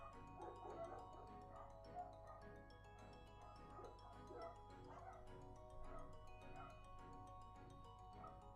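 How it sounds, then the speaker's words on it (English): The neighbor's dogs bark and yip outside an open window, a series of short barks and whimpers that sound faint and distant. They repeat irregularly over a steady tonal background, with no one talking. "the neighbor's dogs are being so loud"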